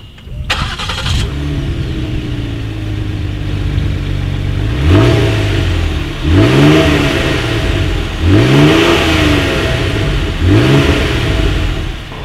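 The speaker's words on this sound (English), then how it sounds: "Here is that exhaust clip." A 2018 Ford Explorer engine starts with a clunk, settles into a deep idle, then revs four times in regular bursts through the exhaust, each rising and falling, loud and close.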